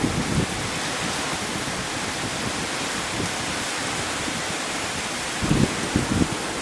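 Heavy rainfall in Ranni pours down around a house balcony as a steady, dense broadband hiss, loud and constant, with a few brief louder bursts of splashing near the end.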